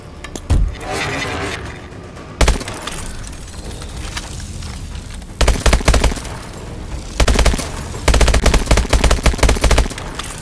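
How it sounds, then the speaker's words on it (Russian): Repeated heavy blasts and bursts during grenade-throwing training in Call of Duty: Advanced Warfare, loud and booming, arriving in clusters with short pauses between them over rumbling game ambience. "Начинаю тренировку по метанию гранат."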